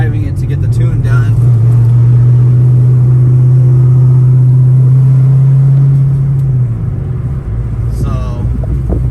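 A car with a built 416 stroker LS3 engine drives along, its steady loud drone holding for several seconds and then falling away, with wind and road rumble around it.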